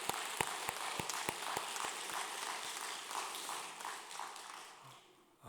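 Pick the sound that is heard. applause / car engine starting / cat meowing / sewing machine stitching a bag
applause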